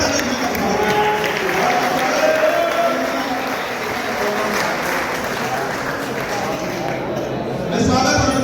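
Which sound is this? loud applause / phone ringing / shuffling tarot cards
loud applause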